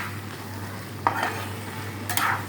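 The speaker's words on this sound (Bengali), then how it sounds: "একটু ভালো করে নাড়াচাড়া দিয়ে দেবো" Mung dal with fish head cooks in a pan, giving a soft sizzle under a low steady hum, with two distinct stirring scrapes, one near the middle and one toward the end.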